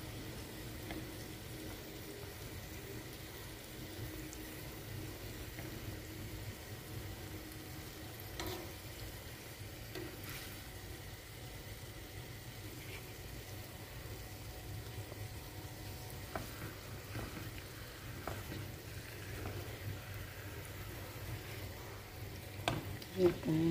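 Honey glazed salmon frying in a pan over low heat, a steady soft sizzle running throughout with faint utensil touches and a few clicks near the end.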